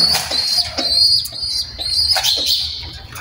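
Pigeons kept on a home rooftop coop in winter give a series of close, bright chirping calls in short bursts with brief gaps, clear and loud with no talking.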